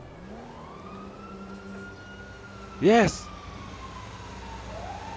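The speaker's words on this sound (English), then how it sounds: "The fire engine is coming!" A fire engine siren in Grand Theft Auto V rises and holds a long wailing tone that sweeps up again later. An excited voice shouts briefly over it partway through.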